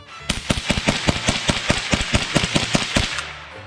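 Rapid string of sharp Ruger 10/22 rimfire rifle shots at a range, about fifteen evenly spaced cracks in under three seconds, loud and close with no talking.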